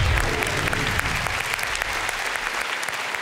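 An audience applauding a performer at an evening stage show, dense and close clapping that stays steady and fades slightly over a few seconds.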